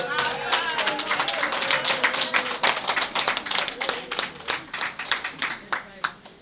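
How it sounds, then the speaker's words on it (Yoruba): An audience clapping for Alhaji Abass Akande Obesere at a food bank event, scattered hand claps building into a steady patter of applause while a voice talks over it. "ẹ bá mi pàtẹ́wọ́ fún bàbá ẹ̀ jọ"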